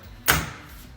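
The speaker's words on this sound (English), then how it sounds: "Next, we're going to close the door and check the alignment." A fabric door panel on a Can-Am Commander side-by-side swings shut with a single soft thud and brief rustle, close by, followed by quiet background.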